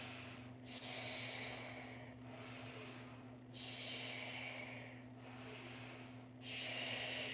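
Heavy, rhythmic breaths are drawn in and pushed out during a yoga exercise held in high plank. About five long, close breaths rise and fall over a steady low hum.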